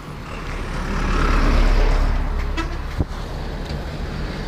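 A road vehicle draws near and passes on an open roadway, its broad engine and tyre rumble swelling to a peak and fading, with a sharp brake-like hiss or clunk near the end.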